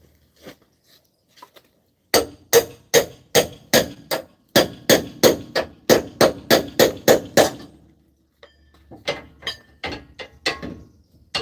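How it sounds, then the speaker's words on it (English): A steel hammer pounds a pickle fork on the front axle of a 1999 Jeep Cherokee XJ during axle removal: about twenty sharp metallic strikes in a fast steady rhythm, close and loud, then a pause and a looser cluster of lighter hits. "I'm gonna use a pickle fork so I don't beat up that steel too much."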